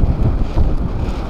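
Strong wind buffeting the microphone on a mountain in Buguias, Benguet, a loud continuous low roar with gusty surges and no voices.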